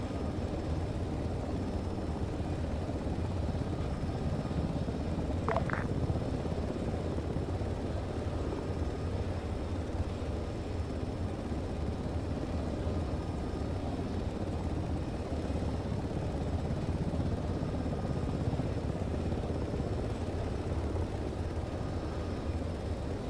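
Steady, continuous helicopter rotor drone from a military simulation video game, heard alone at an even level throughout, with a brief faint tonal blip partway through.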